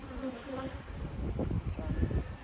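Honey bees buzz around a hive frame, a soft, close, continuous droning hum that rises and falls slightly as the insects move about the comb.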